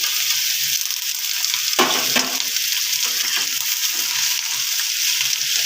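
Potatoes, cut vegetables and tomato sizzle and fry in a pan for a Bengali fish chachchari, a steady hiss with brief stirring scrapes.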